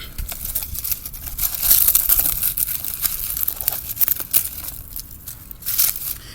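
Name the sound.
pulling weeds from a strawberry container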